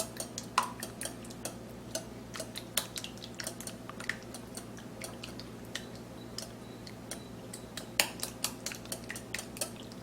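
Eggs being beaten with salt, chopped scallion and garlic: quiet, quick, irregular clicking taps against a bowl that repeat throughout, with occasional sharper knocks.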